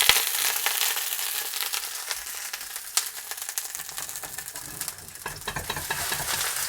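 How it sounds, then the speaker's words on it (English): Sausages sear in a hot pan with a loud, steady sizzle and crackle that runs the whole time, close and alone with no voices. "Make sure they slide around a little bit, and we're searing at this point."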